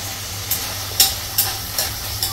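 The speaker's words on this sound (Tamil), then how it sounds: "எண்ணெயிலே வதங்கட்டும்." Vegetables sauté in hot oil in a home kitchen while a spoon stirs them, with a steady sizzle broken by about five sharp stirring scrapes at a regular pace, close and fairly loud.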